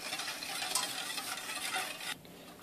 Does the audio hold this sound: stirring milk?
yes